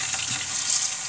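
Tap water runs into a kitchen sink while blender blades are rinsed, a brief, steady hissing splash at moderate volume with no voices.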